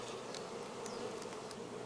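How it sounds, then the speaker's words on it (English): Honeybees on a hive frame make a steady, close, continuous buzz, even and unbroken throughout, with a tiny tick near the end and no voices. "See a bee hatching right now."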